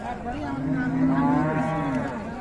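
A Friesian cow with a calf gives a single long, loud, close moo at a busy Monday cattle market in Raniganj, rising and falling before it fades.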